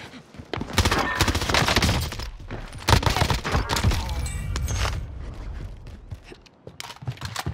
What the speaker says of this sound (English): Enemy hostile fire.